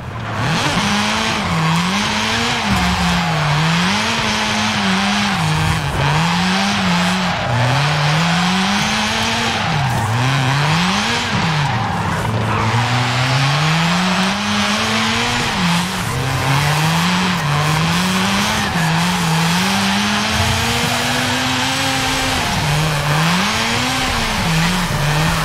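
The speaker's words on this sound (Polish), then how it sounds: "No dźwięk samochodu faktycznie" A Mazda RX-7 drifting, its engine note loud and close, rising and falling in repeated surges as the revs swing, over continuous broad tire squeal and skidding throughout, with no talking.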